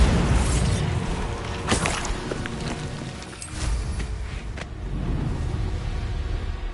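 Bombarda spell explosions from the Hogwarts Legacy video game, heavy booming blasts and bursts rising out of a dense, continuous wash of game sound.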